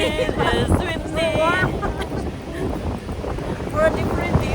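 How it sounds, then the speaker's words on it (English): Gusty wind on the White Rock pier in British Columbia buffets the microphone as a steady broadband roar, with a person talking over it throughout. "It's a little bit windy. It is windy."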